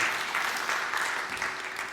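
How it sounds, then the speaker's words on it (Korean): A church congregation applauds during an Easter Sunday worship service, a continuous mass of clapping with no clear break. "우리 영광의 박수 올려드리십시다."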